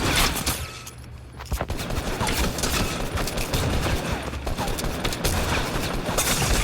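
Dense video game gunfire rattles on almost without a break, with rapid shots and bursts close and loud, easing briefly and then returning; no talking is heard over it.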